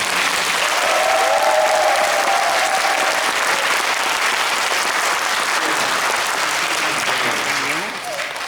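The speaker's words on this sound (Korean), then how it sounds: "우리 다 같이 박수를 한번 보내주세요." Audience applause for the children at a school year-end festival, steady and full for about eight seconds, with faint voices and a brief shout over the clapping before it thins at the end.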